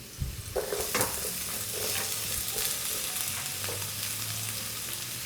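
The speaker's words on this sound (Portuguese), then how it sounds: "Agora é só mexer até essa cebola dar uma boa murchada." A large chopped onion with crushed garlic sizzles in a hot pan while a spoon scrapes and stirs in irregular bursts, close and fairly quiet.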